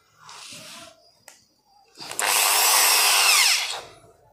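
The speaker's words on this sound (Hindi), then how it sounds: "इसमें स्क्रू टाइट कर देंगे" A power drill drives screws into a wardrobe sliding door fitting: a short whir, a pause, then a longer loud high-pitched run of about two seconds, close by.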